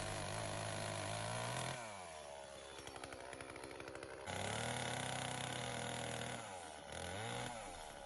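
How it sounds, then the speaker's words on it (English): A chainsaw roars loudly, dropping pitch as it bites into a log for a canoe and rising again between cuts, close up with no talking. "quickly made the cuts with the chainsaw"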